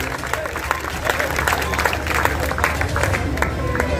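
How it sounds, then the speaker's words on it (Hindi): Enthusiastic applause from a large audience at a Hindi poetry gathering at a Dussehra fair, dense steady clapping with some crowd noise throughout. "मैं चाहता हूं आपकी जोरदार तालियां"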